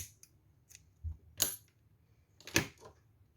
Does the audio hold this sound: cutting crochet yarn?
yes